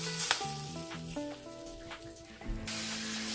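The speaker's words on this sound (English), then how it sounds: "And I'm gonna add this oil on" Oil poured over gundruk, fermented Nepali leafy greens, for a pickle with soybeans and turmeric, giving a soft sizzle and crackle that swells briefly, with faint tonal background music running throughout.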